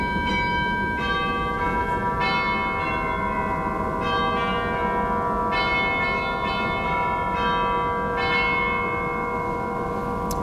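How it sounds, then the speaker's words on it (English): Tubular chimes of a theatre organ strike a series of ringing metallic tones, each note sustaining and overlapping into a resonant bell-like wash, with no talking. "Actual chimes, tubular chimes."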